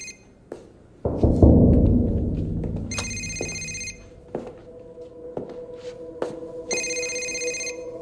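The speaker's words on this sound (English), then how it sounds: "Whose phone is that?" A mobile phone rings in short repeated bursts of a bright electronic tone, sounding twice with a pause between, over low room noise and a few thumps.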